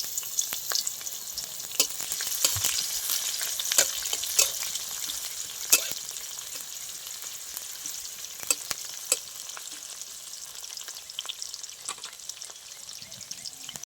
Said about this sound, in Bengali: পেঁয়াজ কুচি দিয়ে দিচ্ছি। পেঁয়াজটা আবার হালকা করে ভেজে নেব আমি।